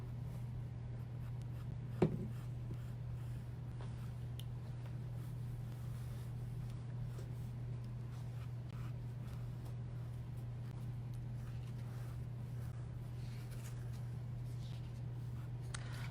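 A pencil sketches a drawing on paper ahead of watercolor painting, giving soft, steady scratching strokes close by over a constant low hum, with one brief tap early on.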